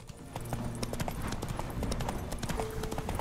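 Roach, Geralt's horse in the video game The Witcher 3: Wild Hunt, trots in a steady, close clip-clop rhythm layered over game music and ambience.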